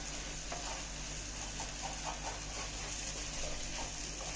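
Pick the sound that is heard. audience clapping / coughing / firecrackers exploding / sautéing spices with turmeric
sautéing spices with turmeric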